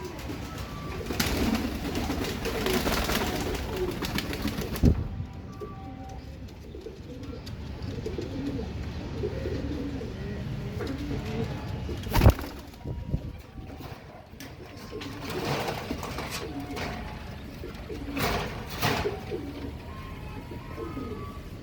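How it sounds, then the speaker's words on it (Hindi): Pigeons coo softly and repeatedly nearby, low throaty calls over a steady background hum, with a few brief bumps. "ये भी ऑरेंज कबूतर है"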